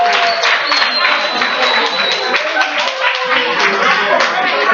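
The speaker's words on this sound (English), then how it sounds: "clap for them as they sit down" A seated audience claps as presenters return to their seats at a science event, a dense, steady wash of handclaps with voices mixed in throughout.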